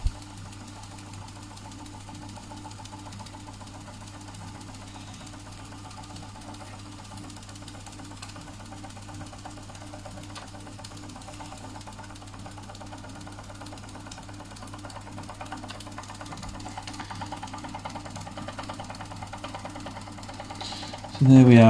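A Doll & Co 339/2 stationary model steam engine running steadily, with a soft continuous rhythmic chuffing and mechanical ticking under a low hum, faint throughout until a brief louder noise at the very end.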